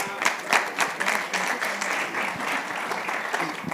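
A church audience claps at an evening service, a dense burst of applause with sharp individual claps standing out, steady and close for a few seconds.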